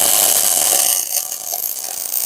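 A brief, steady crackling hiss of a tack weld on metal, close and fairly loud, fading slightly partway through.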